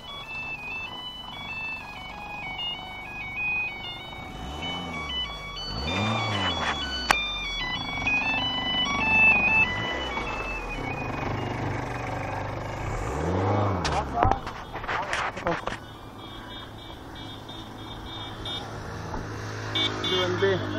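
A car driving in through the second gate of a housing layout near Chennai, its engine passing close with a few rising and falling swells, while people talk over it.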